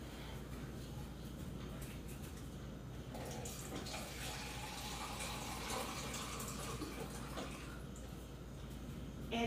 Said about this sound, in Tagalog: So, lagyan natin siya ng 630 na water.